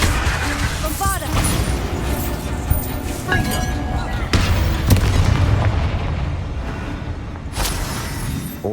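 The Bombarda spell in the Hogwarts Legacy video game sets off several heavy booms and bursts in quick sequence, with clinking debris and rumble between them and a voice heard briefly.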